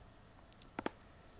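A few small mouse clicks while saving a file in Dreamweaver: faint light ticks, then a quick close double click, all quiet and without speech.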